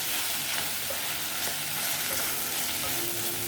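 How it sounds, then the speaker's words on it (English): Tinfish frying in a pot with browned onion is stirred and broken up, giving a loud, steady sizzle with faint scraping beneath it. "So as you're mixing, you can break it into bite-sized pieces."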